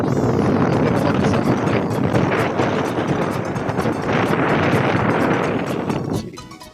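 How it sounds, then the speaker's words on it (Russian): Strong wind buffets the microphone on a frozen lake during a snowstorm, where pike are being fished through the ice with tip-ups. It makes a loud, continuous roaring rumble that eases off sharply at the very end. "Сегодня ветер, снимать не получится."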